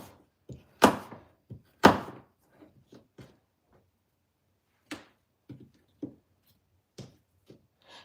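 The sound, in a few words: knife dicing apple slices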